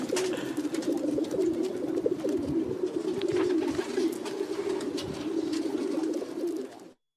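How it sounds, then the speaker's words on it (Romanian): A large flock of pigeons coos continuously outdoors in a city, crowding after a woman pushing a stroller, as heard from an apartment balcony; the dense layered cooing stays steady throughout without voices. "un amator a filmat o mulțime de porumbei ținându-se după o mamă cu un cărucior"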